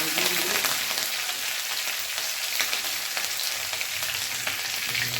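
Cumin seeds and curry leaves sizzle in hot oil in a kadhai, a steady close crackling fry with scattered pops throughout, alone without talking.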